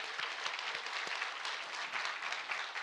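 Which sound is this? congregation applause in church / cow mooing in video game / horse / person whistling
congregation applause in church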